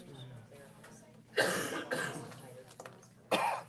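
Two sharp coughs at a school board meeting, one in the middle and one at the end, each with a short follow-up rasp, heard up close.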